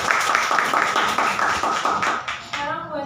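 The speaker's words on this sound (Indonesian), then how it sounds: "Berikan tepuk tangan anak-anak." A class of schoolchildren clapping their hands, a brisk, slightly uneven burst of many claps that thins out and fades toward the end, close and lively.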